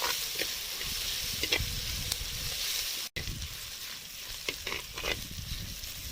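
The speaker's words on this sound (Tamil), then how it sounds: "இந்த நேரத்தில் நம்ம நசுக்கி வச்ச பூண்டு சேர்த்து நல்லா வதக்கி விடலாம்" Steady sizzling of onions and crushed garlic sautéing in a pan, with occasional stirring scrapes, close and continuous with no talking.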